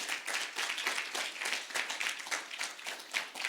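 A church congregation claps together during a Spanish-language sermon in Baltimore, a fairly quiet, rhythmic wash of hand claps with pulsing beats, heard alone without speech.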